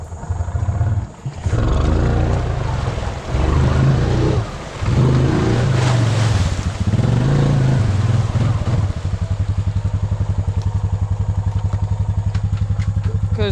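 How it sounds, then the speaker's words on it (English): A Honda 420 ATV revs hard while churning through water and ruts, its engine roaring loud and close with surging splashes, then settling into a steady rhythmic idle-like chug toward the end. "I think I'll be good to water wheelie from here."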